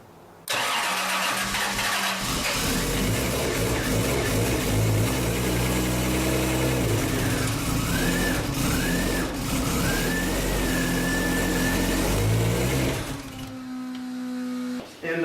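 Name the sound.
Toyota 2JZ engine starting and running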